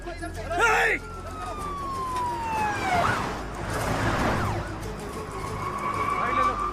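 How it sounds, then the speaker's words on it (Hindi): A police car siren wails in rising and falling sweeps, fairly close and moderately loud, under brief voices and general street noise. "पुलिस की गाड़ी आ रही है, जल्दी।"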